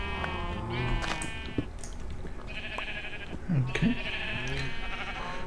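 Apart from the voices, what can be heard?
sheep bleating from a sheep spawner in a video game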